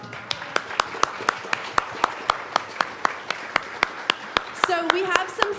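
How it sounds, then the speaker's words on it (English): An audience at a church service applauds a youth program volunteer with steady, evenly spaced claps of moderate loudness, about four per second; a brief voiced sound rises over the clapping near the end. "We can clap for her."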